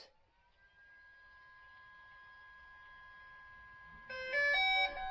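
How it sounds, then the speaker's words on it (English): Electronic beeping from a DJI Phantom 4 Advanced drone controller finishing a firmware update: a steady pair of high tones hums for several seconds, then a louder burst of quick, chirpy beeps closes it out. "Beep beep beep. Does that mean you're done updating?"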